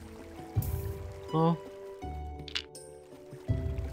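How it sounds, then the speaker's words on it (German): Bodies tossed into river water in Graveyard Keeper land as a few soft splashes and watery sloshes amid game ambience and clinking. Someone talks briefly over them. "Werfen wir jetzt einfach alle ins Wasser."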